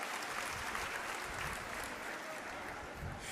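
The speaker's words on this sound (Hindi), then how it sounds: "चला सभी एक बार ताली बजाईना मामाचं स्वागत करा." A crowd claps steadily as one sustained wash of applause at a public welfare event in Pandhana, Khandwa, filling the whole moment evenly without a break.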